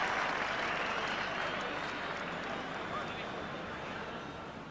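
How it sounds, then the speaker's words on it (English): Cricket crowd at Trent Bridge during an England v Australia Test in 1989 roaring and applauding, a steady broad wash of clapping and cheering that fades slightly across the stretch, with commentary voices underneath. "the crowd roar of relief"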